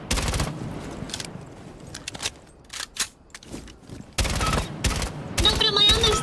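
A gun burst-fired in a video game: several short, loud bursts of rapid shots separated by quieter gaps with faint movement and mechanical clicks.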